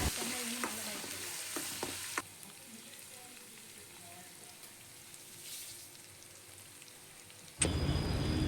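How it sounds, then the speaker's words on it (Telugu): Chicken pieces sizzle loudly in hot oil while ginger garlic paste is stirred in, with scraping stir strokes early on. The sizzle drops to a softer crackle through the middle, then surges loud again at the end. "చికెన్ ముక్కలు బాగా నూనెలో బాగా డీప్ ఫ్రై అయిన తర్వాత కొంచెం అల్లం వెల్లుల్లి పేస్ట్ వేసుకొని బాగా కలుపుకోవాలి"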